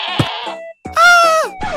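Minecraft goat bleating loud and close: two or three nasal, wavering bleats in quick succession with a brief silent gap between them.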